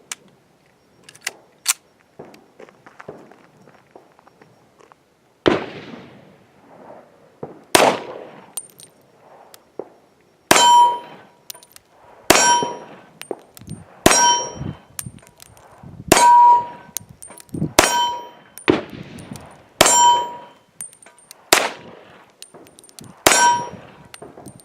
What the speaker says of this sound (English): here's Luke shooting the Tanfoglio in 38 Super